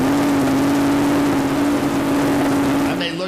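A fuel-altered race car called Shockwave, with a 2,500 horsepower engine, warms up with a loud, steady droning roar that stays level throughout, ending in a brief change at the close.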